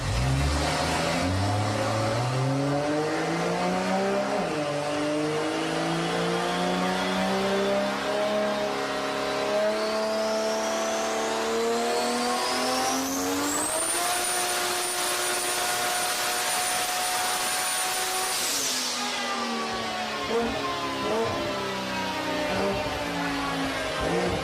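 A big-turbo Garrett-equipped Nissan GT-R with automatic transmission runs turbo-only on a dyno, its engine revving loudly and climbing steadily in pitch to a sustained high-rpm scream with a whistling top, then dropping off, close and continuous with no talk.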